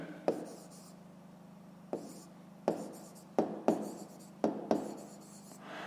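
A pen writes on paper in a quiet room, with soft scratchy strokes and several distinct taps as it is set down between short runs of writing, close and faint.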